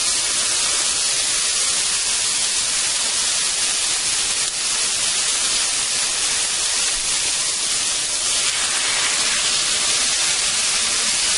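Steak frying in a pan over medium heat, a constant dense sizzle and hiss holding steady throughout with no talk.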